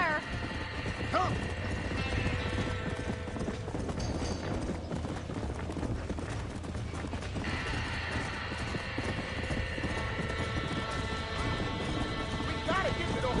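Horses trapped in a burning barn in a cowboy video game, with hooves clattering, frightened neighing and crashing noises under a continuous dense roar, and voices talking over the commotion.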